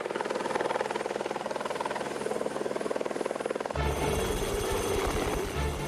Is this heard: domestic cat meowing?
no